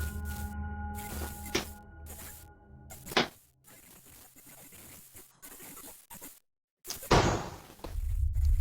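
Off-camera banging inside a home, with several thuds like a door closing or slamming, some sharp and loud, set against a humming background that drops out briefly in between.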